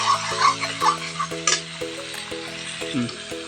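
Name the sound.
meat frying in pan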